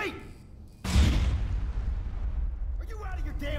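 A grenade goes off in the video game Aliens: Colonial Marines: a single sudden heavy boom with a long rumbling decay, while in-game voices sound before the blast and again as it fades.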